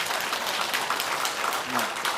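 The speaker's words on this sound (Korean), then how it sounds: "박수 한번 쳐주겠습니다." Lecture hall audience clapping for an older woman standing up at a citizens' college talk, a brief burst of many hands at moderate loudness, slightly uneven in density.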